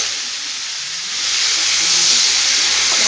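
A pot lid comes off a simmering vegetarian curry of pumpkin, potato and stems, releasing a steady broadband hiss of escaping steam that swells slightly louder after the first second and holds, with no talking.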